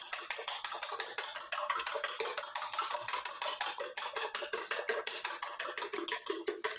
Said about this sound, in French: Nous les mélangeons un peu.